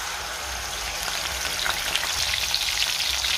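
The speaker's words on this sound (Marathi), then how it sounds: "तेलामध्ये मी टेचलेला लसूण घालते, त्यातच हे वाटण घालायचं आहे आपल्याला" Crushed garlic and ground masala paste fry in hot oil, giving a steady, dense sizzle that holds without a break and builds slightly toward the end.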